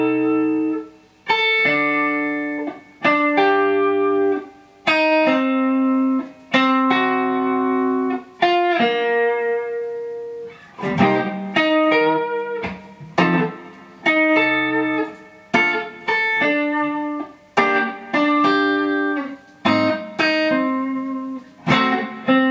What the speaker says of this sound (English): here's the progression with just the guide tones